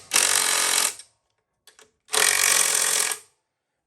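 A power tool tightens a bolt on a bicycle frame in two loud, buzzing bursts of about a second each, close by, with a brief quiet click between them.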